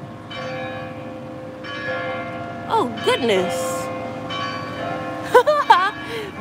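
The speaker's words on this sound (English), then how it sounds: "This is the loudest bell I ever heard of." A very loud bell rings with long sustained harmonic tones in a downtown public library, the clang persisting while a woman exclaims briefly over it.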